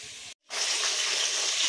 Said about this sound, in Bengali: মেথির শাক ভাজা হচ্ছে, একটু আলু দিয়েছি